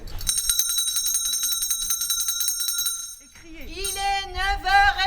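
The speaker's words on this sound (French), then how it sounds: "Est-ce que quelqu'un veut bien sonner la cloche?" A hand bell rung repeatedly in a fast, bright metallic ringing for about three seconds during a night walking tour of Sarre-Union, followed by a voice speaking.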